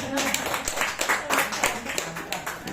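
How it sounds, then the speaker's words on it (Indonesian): A seated audience claps together at a motivational business gathering, a dense, steady patter of many hands that runs the whole time without letting up. "Tepuk tangan anak."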